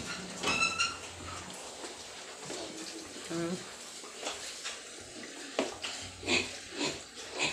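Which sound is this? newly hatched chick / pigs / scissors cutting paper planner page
pigs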